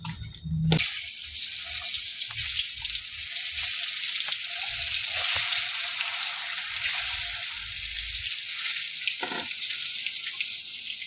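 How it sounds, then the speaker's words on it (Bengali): Potatoes frying in hot oil with salt and turmeric, a loud, continuous hissing sizzle that flares up as they hit the pan, with brief clinks of stirring. "আলুটা ভালো করে ভেজে নেব।"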